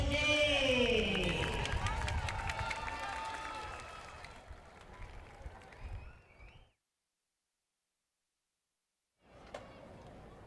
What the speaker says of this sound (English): Big round of applause for the Mean Green Music Machine